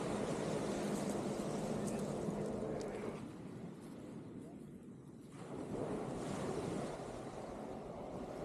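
Ocean surf at Whiskey Gulch, Alaska, rolls in as a steady, broad wash of breaking waves with wind buffeting the microphone, briefly easing mid-way before building again.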